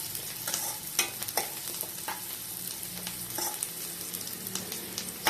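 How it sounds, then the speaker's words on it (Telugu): Raisins fry in a pan for sheer khurma, a dense hissing sizzle running throughout with a few light spatula taps and scrapes on top. "ఎండు ద్రాక్ష కూడా వేసుకున్న తర్వాత కొంచెం సేపు ఫ్రై చేసి"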